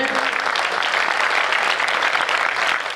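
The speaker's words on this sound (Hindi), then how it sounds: "मैं चाहता हूँ आपकी समवेत स्वरों से तालियां उठे" An audience at a Hindi comic poetry gathering breaks into applause, a full, steady roar of many clapping hands, loud and close, lasting about three seconds without talk.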